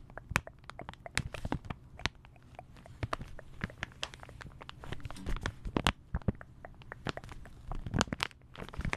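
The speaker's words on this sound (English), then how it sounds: "So chewing gum." Chewing gum mouth sounds recorded close up for ASMR: a steady run of crisp, wet clicks and smacks, irregular but continuous, with soft squelches between them and no speech.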